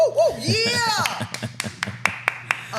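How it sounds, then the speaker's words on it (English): A single person clapping at a comedy interview show, a run of sharp separate claps spaced out, heard near and fairly loud, with voices talking and exclaiming over the start. "Oh, is it just me clapping?"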